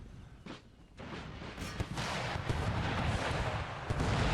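Artillery cannon fire in the Empire: Total War video game, with booming volleys that merge into a dense, continuous rumbling roar after the first second, loud and sustained to the end.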